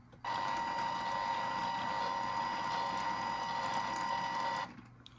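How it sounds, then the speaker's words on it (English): A LEGO elevator driven by a Mindstorms motor runs with a steady, high-pitched mechanical whine and whir for about four seconds, close and fairly quiet, then stops abruptly. "And we'll do a little demo of the elevator right now. It's a little noisy. Uses a Mindstorms motor,"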